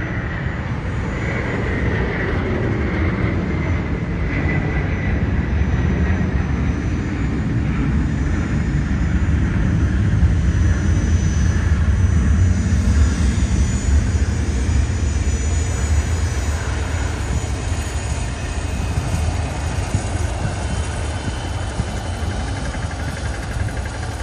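Jet airliner departing Sydney airport on runway 34L, a steady loud engine roar that holds strongly through the whole stretch with no voices over it.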